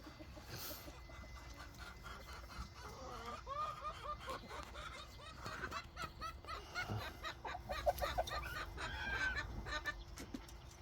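A group of young chickens clucks and chatters continuously nearby in a coop in the morning, with occasional louder squawks over a faint steady hum.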